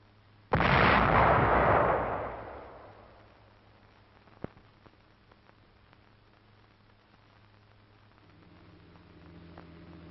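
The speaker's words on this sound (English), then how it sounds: "Visiting a field artillery position where Mr. Churchill fires a 240mm howitzer." A single 240mm howitzer fires at a WWII field artillery position in Italy, a sudden heavy boom that rumbles and fades over about two seconds, then a hissy, quiet stretch with a faint click.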